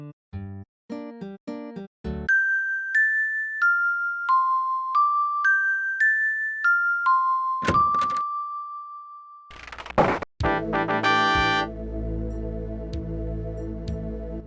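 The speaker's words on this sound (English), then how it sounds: "The rope is attached to a series of bells hanging under the overhang." Bells hung on a rope under an overhang ring in the Quest for Glory IV computer game: a quick run of synthesized chime notes, clean and steady, followed by a noisy clattering burst and a denser ringing jangle.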